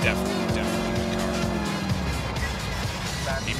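A Comet sports car in GTA IV revs hard and accelerates with squealing tires, the engine pitch climbing in steps as gears change; someone talks over the engine.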